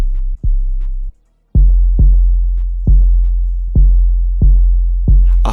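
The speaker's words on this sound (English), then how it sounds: "We got this 808," Deep 808 bass in a trap beat from FL Studio: loud, booming sustained low notes, a couple of short hits followed by a steady run of regularly spaced long bass notes, each starting with a punchy attack, heard alone with no voices.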